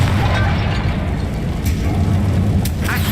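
A Confringo blasting spell detonates in Hogwarts Legacy, a dense, booming burst that rumbles on steadily at close range and loud level for the whole stretch, with no clear separate impacts.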